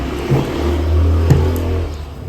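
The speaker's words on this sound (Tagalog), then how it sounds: "Okay, may dumaan na sasakyan. One motor." A motorcycle passing by outside, a loud engine drone that swells and revs briefly, heard alone for a couple of seconds.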